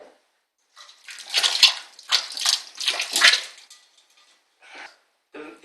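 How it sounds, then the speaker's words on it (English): Beer kit concentrate pours from a can into a fermenter while brewing a Coopers English Bitter, making a few close, wet glugging and splashing bursts separated by short pauses, with quiet stretches between. "I'm just going to tip the can straight into the fermenter, I think."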